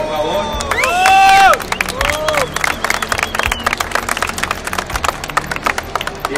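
Audience applause at the EGS 2015 gaming event, starting with a loud electronic tone and burst of noise, then scattered clapping and crowd noise with brief voices.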